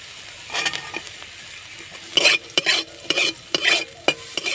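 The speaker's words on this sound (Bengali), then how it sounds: "আমি গাজরটা ভেজে নেব।" Carrots frying in a pan, a soft background sizzle broken by several sharp scraping bursts as a spatula stirs the pieces, close and fairly loud.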